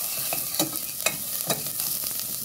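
Ingredients for sopas sizzle steadily in a pan, with soft stirring scrapes at intervals, quiet and close, with no talk.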